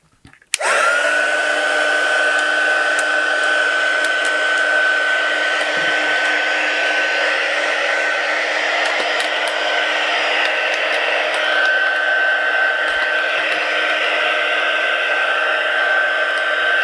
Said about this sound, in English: And then we will turn on this heat gun and you can watch the magic happen.